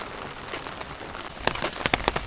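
Rain falls steadily on Miyajima, Japan, a dense close patter with scattered crisp drops that grow louder and more frequent toward the end.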